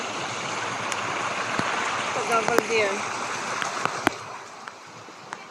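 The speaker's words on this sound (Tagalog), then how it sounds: "Kaya mahirap maging mag-risk guys doon sa ang lakas ng tubig." A strong stream in the rainy season rushes with a constant, loud broadband roar. People talk briefly over it, and a few sharp knocks and splashes stand out.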